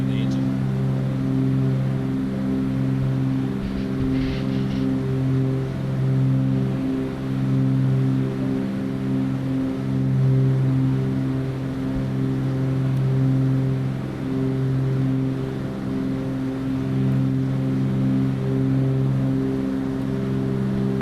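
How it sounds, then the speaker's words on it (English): A Cessna 310R twin-engine aircraft in Flight Simulator gives a steady, low, droning engine rumble with a layered harmonic hum. It holds constant and close throughout with only slight pulsing. "You should hear that rumble soon in the engine."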